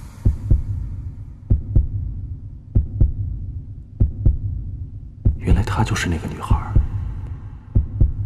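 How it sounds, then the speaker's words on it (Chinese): Human heartbeat pulses in slow, regular low thumps, close and clear as if heard through a chest, with a faint voice speaking briefly midway over the beats. "这就是心跳的声音。"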